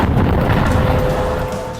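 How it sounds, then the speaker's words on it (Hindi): A heavy, sustained rumbling boom rolls on for nearly two seconds with no voices, consistent with an anti-tank missile striking an Israeli army post on the Lebanon border. "पहले धमाका, फिर पोस्ट का बड़ा हिस्सा ढह जाता है और आग लग जाती है।"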